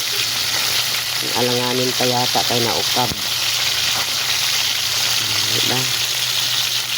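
Fish frying in hot oil sizzles and crackles steadily, close and loud, while a person speaks briefly over it.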